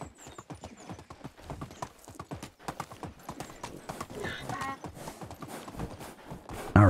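Donkey hooves clip-clop in the video game Medieval Dynasty, a steady run of quick, even hoof knocks over a snowy village, with someone talking over them.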